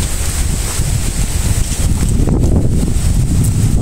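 Strong typhoon wind roars and buffets the microphone continuously, a loud, rumbling low-end blast with no talking.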